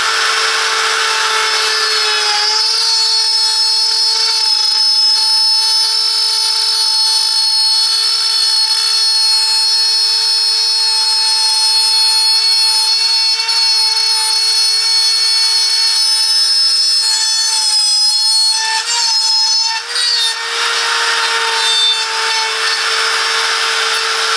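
A Parkside PPMF 710 A1 multifunctional milling machine runs steadily and loud with a high whining motor tone, holding nearly constant pitch throughout with small dips near the end; no one speaks.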